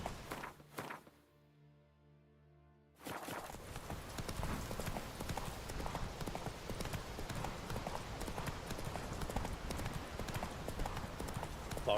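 Horse hooves clip-clopping in The Witcher 3, a steady rapid beat that breaks off briefly near the start, leaving a quiet musical lull, then resumes loud and continuous to the end.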